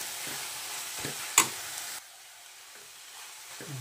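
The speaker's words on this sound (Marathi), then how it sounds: "आता सगळ्यात शेवटी हे ओलं खोबरं आणि चांगली जरा मिक्स करून घ्यायची." Kurdu leafy greens are stirred with freshly grated coconut in a pan, giving soft scraping strokes and a brief sharp clatter over a light sizzle that drops away into quiet.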